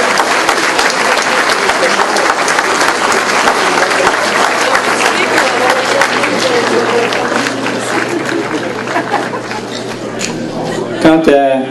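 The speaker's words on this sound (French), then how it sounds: "Alors félicitations à Mme Laurette Côté, on a une bonne main d'applaudissements s'il vous plaît." An audience in a hall applauds a volunteer honoree with sustained, dense clapping that tapers slightly near the end, a murmur of voices under it and a voice starting to speak as it fades.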